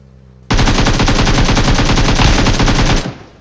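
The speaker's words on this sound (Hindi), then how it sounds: "तभी हमें एक बंदे की गोली चलने की आवाज़ आती है।" Sustained automatic fire from an M416 rifle in PUBG Mobile, a loud continuous burst of rapid shots lasting about two and a half seconds before cutting off.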